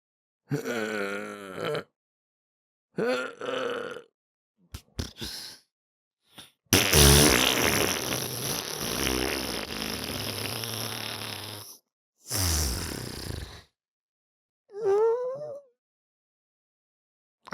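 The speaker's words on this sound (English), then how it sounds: "I'll let you go first with your fart noise" A mouth-made fart noise performed on a podcast between bursts of talk, building into a long, loud, sputtering blast that swells toward the end, followed by more talk and a short whooping sound.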